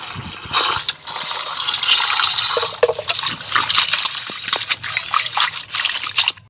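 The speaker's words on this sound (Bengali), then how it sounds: "ভালো মতন শাকগুলোকে ধুয়ে নিচ্ছি অনেক জল দিয়ে" Jute leaves being rinsed in plenty of water, with continuous close splashing, sloshing and trickling and a few brief clinks along the way.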